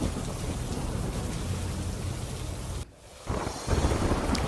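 Heavy monsoon downpour in Gujarat, dense and roaring, with deep thunder rumbling through; the roar briefly drops near the end, then resumes even stronger.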